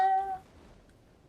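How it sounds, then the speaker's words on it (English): A cat gives one short, clear meow, loud at first and then trailing off into quiet background, with no talking over it. "It sounds like a cat."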